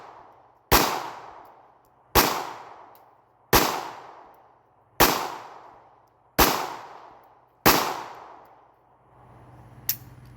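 Six loud handgun shots ring out one at a time at even intervals of about a second and a half, each a sharp crack with a long echoing decay outdoors, from guns in a personal collection fired on the Fourth of July.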